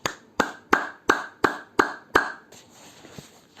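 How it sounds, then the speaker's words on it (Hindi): Loud claps with both hands: six sharp, evenly spaced smacks in quick succession, close and ringing, followed by a quieter stretch with a faint tap. "ये आपकी खुशियों की ताली है, खुशियों की ताली की आवाज़ है"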